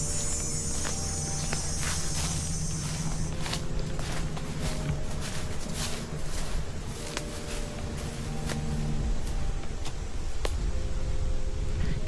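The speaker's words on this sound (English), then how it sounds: "while the cicadas are loud." Cicadas drone in Chemong Park, a steady insect buzz over outdoor ambience, with footsteps crunching close by throughout a walk.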